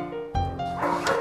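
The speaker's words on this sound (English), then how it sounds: "I woke up to the sound of much barking" A dog gives a short bow-wow bark followed by a yip, close and fairly loud, lasting about a second.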